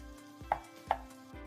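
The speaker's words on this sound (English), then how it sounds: "We'll start by thinly slicing 2 medium onions for making delicious korma" A knife thinly slicing onions on a cutting board, four crisp evenly spaced chops in quick succession, close and fairly quiet, with no talk.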